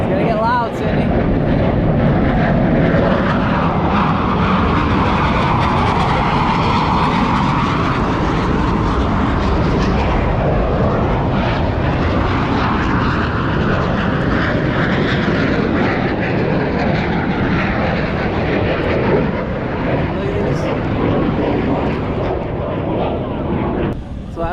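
Blue Angels jets roar overhead at Big Lagoon in Florida, a loud sustained rumbling wash that swells and fades over the whole stretch, with people talking and exclaiming beneath it.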